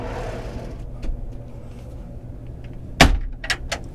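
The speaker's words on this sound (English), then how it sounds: "you just slide the door away like that" A storage compartment door aboard a Riviera 5400 Platinum Edition yacht slides open with a soft rolling rush, followed by a sharp click and a couple of lighter knocks as it comes to rest.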